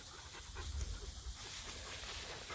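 Livestock guardian dog puppies pant quietly near a flock of sheep out on cleared cedar brush land, a soft, fast breathing rhythm under faint outdoor noise.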